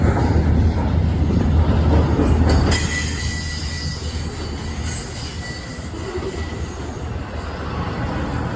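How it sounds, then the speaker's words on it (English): A westbound freight train moves onto track 2, rumbling loudly up close with high wheel squeal. The roar drops after a few seconds into a softer steady rolling clatter. "This train is heading westbound and heading on to track 2,"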